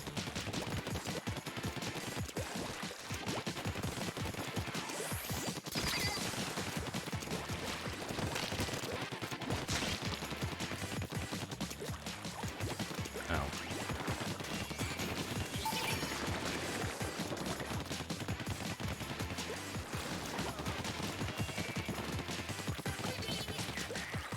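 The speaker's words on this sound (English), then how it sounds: "All the missiles in my direction?" Missiles fire and burst in a Splatoon 2 match, a dense, continuous barrage of rapid blasts and crashes running loud and steady throughout with no pauses.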